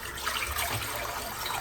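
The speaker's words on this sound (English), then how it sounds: "So fill up the sink with cold water again." Cold water runs from a tap into a bathroom sink, a steady close rushing and splashing that stays even and continuous for a moment, with no voices.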